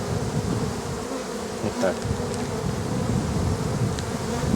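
A loud honeybee hive buzzes in a dense, steady drone close up while being opened and inspected for honey and pollen, with a brief spoken word barely breaking through.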